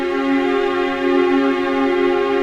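A sustained piano chord in 31 equal temperament, a steady, rich, ringing tone held for a couple of seconds, clear and alone with no talking.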